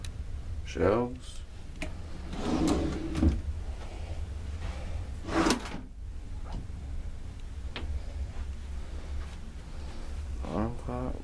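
Drawers sliding open and shut in a Disney Fantasy cruise ship balcony stateroom, a few close knocks and slides spread over the clip, with a voice talking faintly between them.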